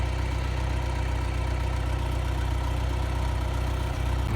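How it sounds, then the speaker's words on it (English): A tractor idling on a cattle farm while it moves a hay bale at feeding time, a loud, steady low drone running close by without a break. "Pull the tractor up a little bit."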